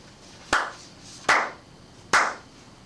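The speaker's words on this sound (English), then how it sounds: "I'm gonna do my claps again" Three sharp, separate hand claps ring out close by, spaced evenly about three-quarters of a second apart, each with a short room decay, with no voices.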